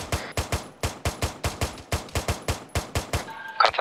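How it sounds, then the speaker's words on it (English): Rapid, evenly spaced bursts of gunfire crack out in an ArmA 3 military firefight, a steady string of about fifteen loud shots with a brief flurry of other noise at the end, no talk over them. "we're taking fire"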